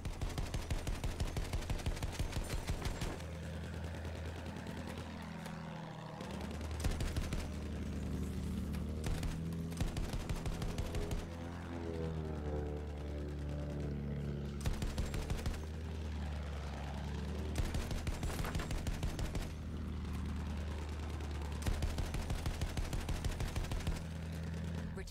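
Anti-aircraft guns in Battlefield 1 hammer away in long, continuous bursts of rapid fire, loud and close, with a heavy low thump beneath the rattle and faint voices now and then.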